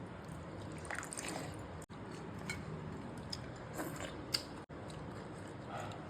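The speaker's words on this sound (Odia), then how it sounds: "ଦର ପୋଡ଼ା ଆଳୁଟା ଏମିତି ଖାଇଲେ ଭଲ ଲାଗେ" Someone chewing half-roasted potato with dried fish, soft irregular close crunching and mouth sounds against a faint background hiss.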